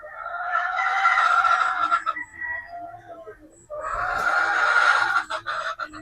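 Boston Black game chicken pullets on a game farm crow in two long, loud, close calls with a short pause between them, ending in a few brief clucks.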